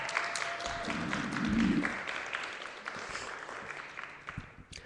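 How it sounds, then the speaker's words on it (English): Applause from the audience at a poetry slam evening, a scattered round of clapping that swells briefly and then thins out, fairly faint and a little distant with some crowd murmur underneath. "Let's get another round of applause for Teresa."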